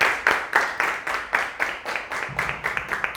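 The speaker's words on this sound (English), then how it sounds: "So please give yourselves a round of applause." Quick, rhythmic clapping rings out at an Africa Unite Club celebration for members at Rosendaal High School, with sharp, evenly spaced claps that sound like a small group applauding close by for about three seconds.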